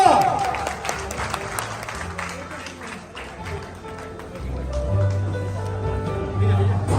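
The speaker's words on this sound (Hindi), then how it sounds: "तो मैं रिक्वेस्ट करूंगा कि भाई प्लीज जोरदार तालियां होनी चाहिए" A crowd at an outdoor gathering claps in a dense, uneven burst that fades partway through. Murmuring voices and background noise fill the rest of the clip.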